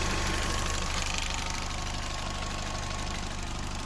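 A Fiat Siena 1.2 engine runs after a head gasket replacement, with a steady close idle hum and dense mechanical clatter, its level holding even with a slight rise early on and no voices.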